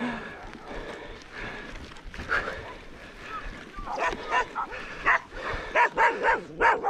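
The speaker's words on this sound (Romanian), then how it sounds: "M-au simțit câinii." Sheepdogs near a hillside sheepfold bark at a passing cyclist, sharp repeated barks building from farther off to louder bursts, over faint outdoor background noise.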